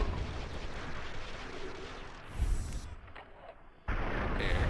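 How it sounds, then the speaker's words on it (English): Explosion in the video game Fallout: New Vegas, a deep, rumbling boom layered over dense, continuous game noise, with a sudden burst of rumble near the end. "Explosion."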